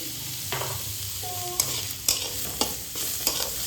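Vegetables frying in a pan with salt added, stirred with sharp utensil scrapes and clacks over a steady sizzle, close and moderately loud, no talking.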